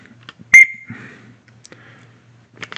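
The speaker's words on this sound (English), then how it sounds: "Keychain whistle." A small keychain whistle from a camping gear kit gives one short, sharp shrill blast, followed by faint handling clicks and rustling.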